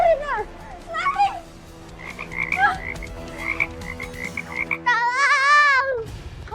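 A supernatural frog demon croaks in a spooky drama scene, with a series of warbling, chirping croaks that build into one long, loud trilling call near the end, heard alone without talk.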